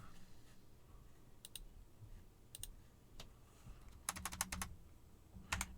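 Someone types a search query on a computer keyboard. Soft, faint key clicks come in scattered taps, then a quicker cluster near the end, with no speech.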